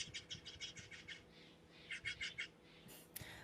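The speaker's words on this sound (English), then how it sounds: "Is that a bird in your background?" A bird calls in the background of an indoor online broadcast, a faint series of rapid high chirps in two bursts with a short sharp note at the end.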